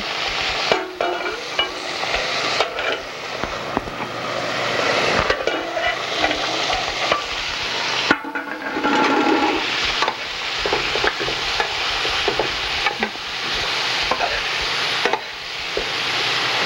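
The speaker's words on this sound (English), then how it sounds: "I'm going to be stirring the vegetables to make sure it's not sticking" Steady sizzling and frying with repeated scraping and clattering as vegetables for an Indian vegetarian dish are stirred in a pot, close and fairly loud, with no talking.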